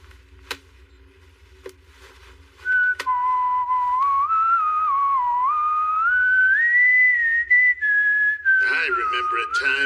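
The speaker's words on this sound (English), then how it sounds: "I remember a time when you whistled that ditty quite a lot" A person whistles a ditty, a clear sustained melody with gliding pitch bends that starts after a few faint clicks and ticks and runs on continuously, fairly close and loud.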